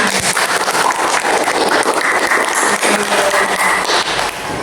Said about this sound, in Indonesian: Sekarang tepuk tangan bersama untuk kita semua.